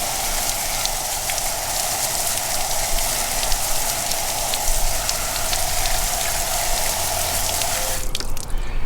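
Water spray rinsing a car wheel, a steady hissing splash up close that runs unbroken before cutting off abruptly near the end.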